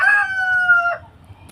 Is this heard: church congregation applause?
no